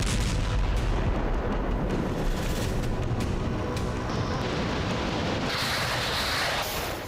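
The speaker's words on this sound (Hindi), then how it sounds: "देखिए किस तरह धमाके के बाद एक बड़ी शॉकवेव निकल रही है" A heavy, continuous roar and rumble of aerial guided bomb explosions fills the clip, loud and dense, fading slightly toward the end, on the Kharkiv front in Ukraine.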